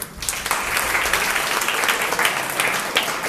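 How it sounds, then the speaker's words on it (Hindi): A crowd at a sports award ceremony applauding steadily, dense clapping sustained throughout without letting up. "सभी के लिए मैं तालियां बजाने के लिए आग्रह करता हूं।"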